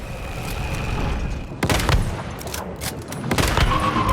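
A boss fires at cover during a fight in the survival shooter Once Human. Bursts of loud gunshots crack in clusters after a steady rumbling bed, with sharp repeated volleys near the end.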